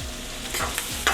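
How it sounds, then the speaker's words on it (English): Ground beef with raisins and butter sautéing in a pan, a steady close sizzle with a few brief stirring scrapes, no voices. "Saute a little bit."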